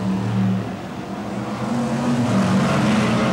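BriSCA Formula One stock cars race at Kings Lynn, a loud, steady roar of several engines holding on without a break, droning through the whole stretch with no voices over it.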